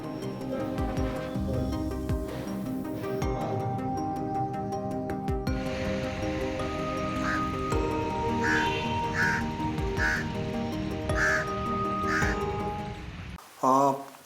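Crows caw in a run of repeated calls outdoors in Udgir town during a bird flu outbreak, fairly close over steady background noise, with people talking nearby.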